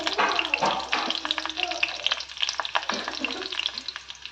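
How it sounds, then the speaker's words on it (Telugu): Green chilies hit hot oil and sizzle sharply, with crackling spatter and stirring scrapes close up, the frying rising and falling in quick bursts. "ఆయిల్ వేడెక్కిందండి, పచ్చిమిర్చి వేసుకోవాలి."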